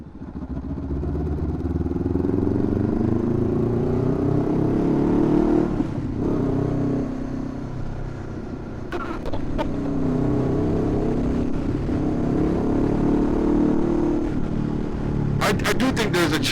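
A 2021 Honda CBR500R motorcycle fitted with a LeoVince LV-10 slip-on exhaust revving up and down repeatedly, loud and close, with a brief clatter near the end.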